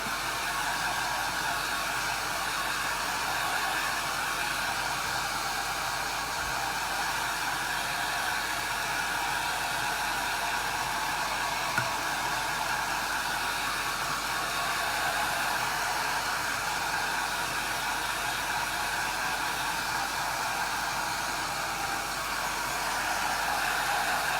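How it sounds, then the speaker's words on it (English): A hair dryer blows continuously at close range, drying chalk paste on a craft project, with a loud, even whoosh that never lets up. "I am drying this."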